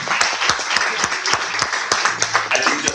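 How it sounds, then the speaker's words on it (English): A general meeting audience gives Eddie another round of applause, steady clapping from many hands filling the room with distinct individual claps standing out near. "One more round of applause because"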